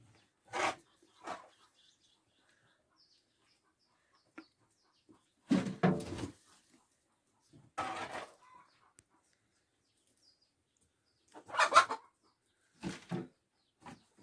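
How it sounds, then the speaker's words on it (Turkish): A hen about to lay an egg clucks and squawks in several separate bursts, some louder and drawn out, with quiet pauses between them. "Yumurtlayacak tavuk."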